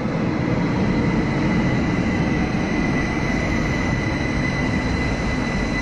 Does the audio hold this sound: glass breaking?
no